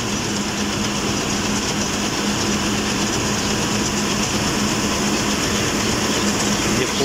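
A combine harvester unloads harvested paddy into a trolley in a rice-growing area of Punjab. A steady mechanical rumble runs throughout, with a constant hum and a rushing, grainy hiss and no breaks.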